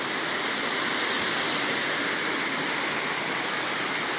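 Torc Waterfall in Killarney roars steadily and loudly up close, a constant dense rush of falling water with no talk.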